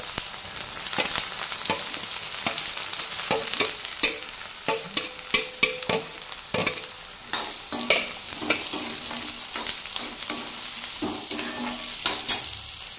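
Two large chopped onions hit a wok of hot oil with a loud, steady sizzle, broken by repeated clacks and scrapes of a spatula stirring; no voices.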